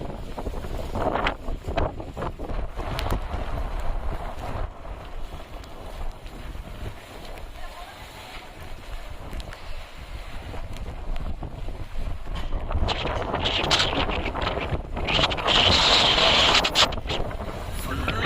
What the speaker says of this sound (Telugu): మొత్తం గాలి పెడుతుంది